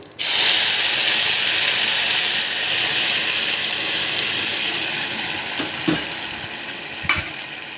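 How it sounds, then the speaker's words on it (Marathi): Hot water poured into frying rice in a pan bursts into a loud, sudden hiss that settles into a steady steamy sizzle, with a couple of brief clinks toward the end. "आणि आपण गरम पाणी केलं हे यामध्ये टाकूया"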